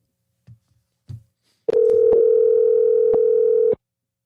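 Telephone dial tone after a call disconnects: a couple of faint clicks, then a loud steady continuous tone for about two seconds, broken by sharp clicks before it cuts off abruptly.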